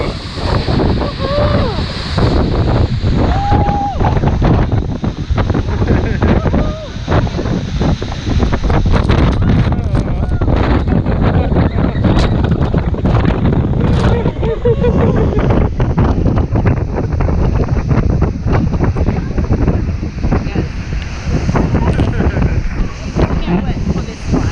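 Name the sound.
strong wind on a cruise boat at Milford Sound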